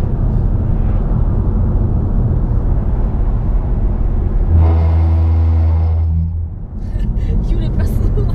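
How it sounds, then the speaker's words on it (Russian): A car's engine rumbles with a heavy, steady low drone and vibration while driving, loud and close, with a brief rising revving tone partway through and a voice speaking near the end. "Вибрация, да, машина вот так дрожит, и соответственно соответствующий звук вернет вас просто..."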